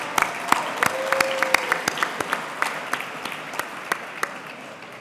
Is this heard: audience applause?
yes